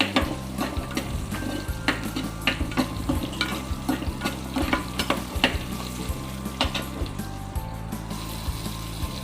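Whole small shallots fry in hot oil in a pan, producing a loud continuous sizzle with rapid crackling pops and a low mechanical hum running underneath throughout.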